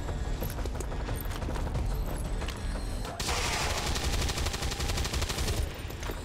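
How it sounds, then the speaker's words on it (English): Weapon fire in the XCOM 2 video game, a sustained rattling burst of rapid shots over loud, busy game sound and music, continuing steadily to the end. "Fire weapon."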